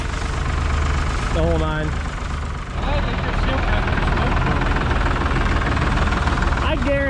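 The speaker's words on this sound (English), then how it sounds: "This one's got a good running engine," A farm tractor with a good engine and brand new clutch runs and idles steadily with a knocking mid-range rumble, heard close while someone talks over it and whistle-like tones rise briefly.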